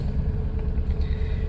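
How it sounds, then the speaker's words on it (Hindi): A car engine idles steadily just after starting, a continuous low rumble heard close up with no voices over it. "हैंड ब्रेक उतार देते हैं और अब चालू करके देखते हैं। वाह, हो गई चालू।"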